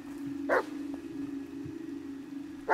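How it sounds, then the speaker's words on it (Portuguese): A dog barks twice, a short, fairly close yelp at the start and another at the end, set over a steady hum with no voices. "Ele está a ladrar."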